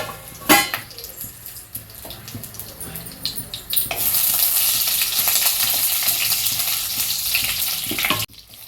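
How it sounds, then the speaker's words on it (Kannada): Spices, bay leaf and Byadgi red chillies dropped into hot ghee and oil crackle and sputter. After scattered pops and stirring, a dense, loud sizzle builds and holds steady, then cuts off abruptly. "ಈಗ ತುಪ್ಪ ಮತ್ತು ಎಣ್ಣೆ 2 ಬಿಸಿಯಾಗಿದೆ. ಇದಕ್ಕೆ ಹಾಕ್ಕೊತಾ ಇದ್ದೀನಿ."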